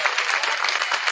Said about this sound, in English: you could give them, please, a round of applause